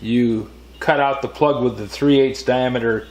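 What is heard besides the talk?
No distinct noise like a dog, phone or traffic.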